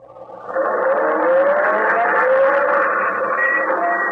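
An engine turns over and catches, then settles into a loud, steady rising drone with a tonal whine.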